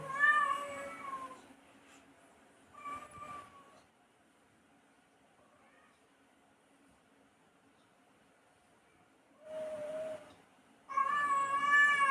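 Several house cats meow and yowl at home: a cluster of loud meows at the start, a short one soon after, a long quiet gap, then more meowing near the end.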